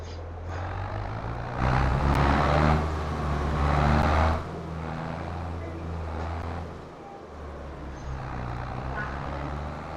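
A steady, fairly loud engine drone from a vintage Allis-Chalmers tractor pulling two loaded trailers in Farming Simulator 22, rumbling continuously with slight swells in intensity and no talk over it.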